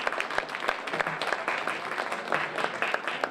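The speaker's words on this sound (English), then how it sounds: "Let's give a round of applause for our candidates for Vice President." Audience applause for vice presidential candidates at a student election event, a steady patter of many hands clapping at moderate distance, with no talking over it.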